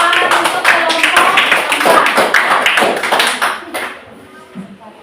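A classroom audience at a university presentation claps for a student group, with loud, close claps in quick succession that thin out and fade to near silence after about four seconds, and voices murmur underneath.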